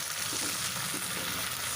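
Onion pieces with curry leaves and a pinch of salt fry in hot oil for a catering-style masala stuffed brinjal curry, giving a steady, close, even sizzle throughout with no talk.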